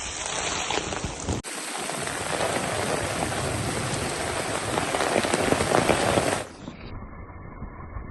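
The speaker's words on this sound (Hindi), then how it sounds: "कल की तरह से फिर से बारिश शुरू हो गई है" Heavy rain and hail pour down in Karachi as a dense, continuous hiss of drops drumming on surfaces, loud and steady with a brief dip early on before easing off near the end.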